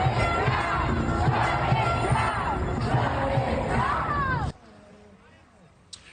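Hundreds of pro-Palestinian demonstrators yell and chant together at the Rockefeller Center Christmas tree lighting in Midtown Manhattan, a loud, dense crowd roar that holds steady and then cuts off abruptly near the end.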